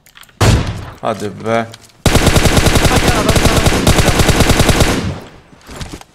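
Gunfire in PUBG Mobile, with a loud burst, a few rapid shots, then a long, sustained automatic volley at close range, and a voice speaking briefly during the firing.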